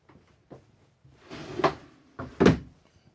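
Drawers in the Euro dinette of a 2023 Newmar London Aire 4521 motorhome, opened with a trigger under the seat, give two firm sliding clunks a second apart, close and fairly quiet, with small clicks between them.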